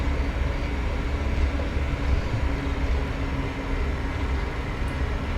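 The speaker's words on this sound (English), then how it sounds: "listen to those taxi sounds" Phenom 300 business jet taxiing in the FSReborn flight simulator game, a steady broadband engine roar and rumble that stays even and fairly loud throughout, with no talking.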